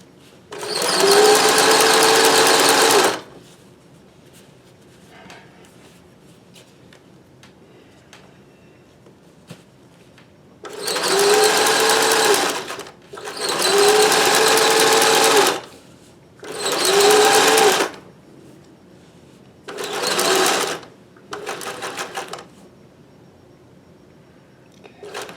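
Singer 411G sewing machine with roller foot chain-stitching rubber-backed fabric, running in five loud, even bursts of rapid stitching separated by quiet pauses, with no voices.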